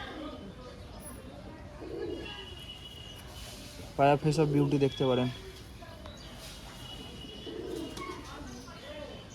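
A Madras Giribaz pigeon coos in one loud, close burst of rolling, pulsing calls lasting about a second, with someone talking before and after.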